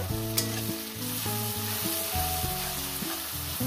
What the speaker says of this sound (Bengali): আদা ছাঁচার পর আমি এটাকে আরো 1 মিনিট কষিয়ে নেব।